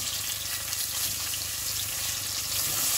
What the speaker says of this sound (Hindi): ये देखें जी, अदरक लहसुन भुन रहा है